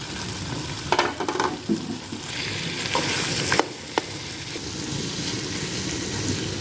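Three large potatoes, cut into cubes, go into frying keema and sizzle loudly as they are stirred, with scraping knocks and a steady crackling hiss up close.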